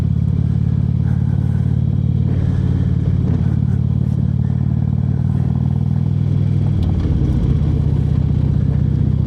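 A motorcycle engine drones loudly and steadily on an open road, with heavy wind rush throughout and a brief shift in engine pitch near the end.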